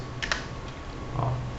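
A brief burst of typing on a computer keyboard, a few close keystrokes against a low steady background hum, no talking.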